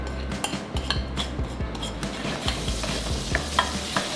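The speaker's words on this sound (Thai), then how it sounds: "เอาซอสไข่เค็มที่เตรียมไว้ลงไปผัด" Salted egg sauce is stir-fried in a pan for squid with salted egg, giving a close, steady sizzle broken by repeated clinks and scrapes of the spatula against the pan.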